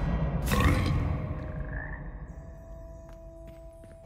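Frogs croaking in the Hogwarts Legacy video game, a loud throaty croak up close followed by quieter, lingering croaks over a low ambient game hum.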